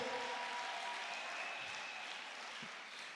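A church congregation claps together during a sermon, a faint, steady patter of many hands heard from a distance, fading slightly at the end.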